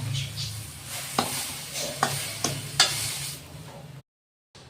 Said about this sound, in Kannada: ರವೆ ಹಾಕ್ಕೊಂಡು ಒಂದು 5 ನಿಮಿಷ ಚೆನ್ನಾಗಿ ಹುರಿದಿದ್ದಾಯಿತು.